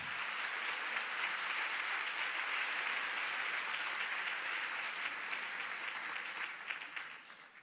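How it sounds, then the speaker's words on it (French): An audience in a hall claps loudly and steadily for several seconds, a dense, even wash of applause that tapers slightly at the close. "On peut les applaudir bien fort."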